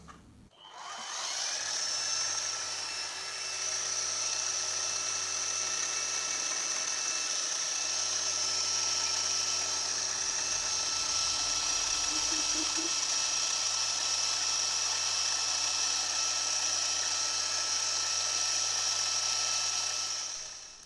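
A drill bores holes in the cast base of a Quorn Mk3 tool grinder, its motor whining steadily and loud for about twenty seconds with a brief dip near the start.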